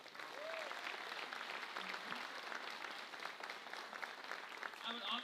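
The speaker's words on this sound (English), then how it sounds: "So please give her a round of applause." At a graduation ceremony, an audience claps steadily and fairly evenly for several seconds, a dense wash of applause with faint voices mixed in.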